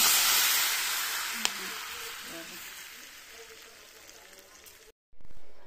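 Hot oil tempering hisses loudly over a bitter gourd and potato pickle, the sizzle strong at first and slowly fading, then cutting out abruptly before a short burst of sizzle returns.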